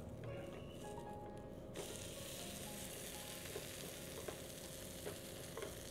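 A dosa sizzles steadily on a hot griddle after being flipped, a continuous close frying hiss with faint scraping clicks, no one talking.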